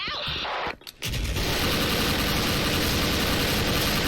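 Rapid SIG551 assault rifle fire in the online shooter Special Force, a dense sustained burst after a brief pause, loud and close throughout.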